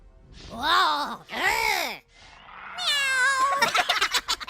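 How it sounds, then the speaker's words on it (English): A cat meows twice in long, drawn-out cries, then lets out a string of higher, chirping wails, all loud and close, with no speech over it. "Meow!"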